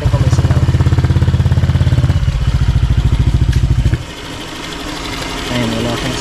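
A motorcycle engine idles loud and close after a cold start, with a fast, steady mechanical chugging that settles into a quieter, smoother idle partway through.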